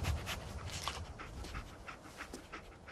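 Dogmeat, the dog companion in Fallout 4, pants steadily and rhythmically up close, with quick repeated breaths over faint game ambience in Diamond City.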